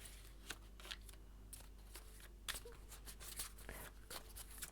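Tarot cards being shuffled by hand in quick riffling and sliding bursts, soft and close, over a constant low electrical hum.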